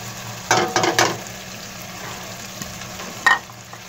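Yogurt stirred into a sizzling pan of chicken and potato masala, with a steady low frying hiss and a few brief louder bursts of sizzle and stirring, close and alone without voices.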